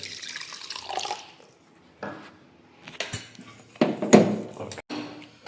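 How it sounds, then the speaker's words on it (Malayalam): Water poured into a pan of fish roe seasoned with salt and turmeric, ready for boiling: intermittent splashes and clinks of metal cookware, loud and close, broken by short pauses. "കുറച്ച് വെള്ളം ഒഴിച്ചിട്ടൊന്ന് വേവിച്ചെടുക്കണം ഇതാ ആദ്യം."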